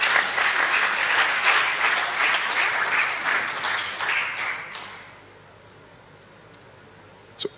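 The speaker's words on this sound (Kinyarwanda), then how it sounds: "Reka dukomere amashyi Imana." A church congregation applauds loudly in a dense burst of clapping that fades out after about five seconds, leaving quiet room tone and a single sharp tap near the end.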